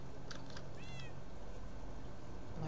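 Cat meowing in the video game Minecraft, two or three short, clear mews over a steady background hum, with no talking.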